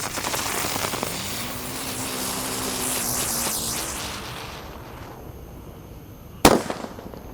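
A sustained crackling, hissing red Roman candle firework burst fades out over several seconds, then a single sharp bang cracks near the end.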